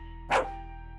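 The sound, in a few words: dog barking in a video game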